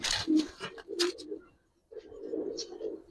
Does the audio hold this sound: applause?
no